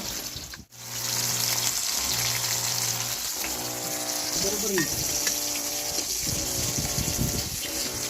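Salted fish frying in hot oil gives a steady, fairly loud sizzle that runs almost throughout, with a brief dip near the start and some background clatter and voices from nearby work.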